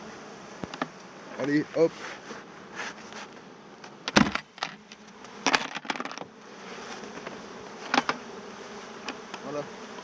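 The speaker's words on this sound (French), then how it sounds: "Tiens, je vous montre l'intérieur vite fait. Les petites abeilles là." Honeybees buzz close by as a small nucleus hive is opened during hiving, a continuous droning hum overlaid with sharp clicks and knocks of wooden frames being handled, with a brief spoken word.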